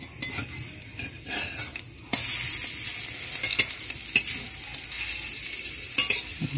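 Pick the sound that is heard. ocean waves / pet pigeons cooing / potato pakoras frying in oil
potato pakoras frying in oil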